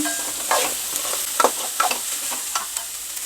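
Onions being lightly sautéed in a pan give a soft continuous sizzle with scattered scraping stirs, close and alone.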